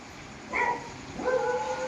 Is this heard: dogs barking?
yes